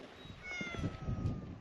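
A cat meows several times at close range, short vocal calls repeating over low rumbling background noise, with no one speaking.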